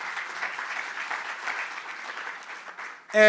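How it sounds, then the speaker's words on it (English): An audience claps steadily at a Black History Month event, a sustained mid-distance applause that fades briefly before a loud closing sound. "Let's give all of them a round of applause."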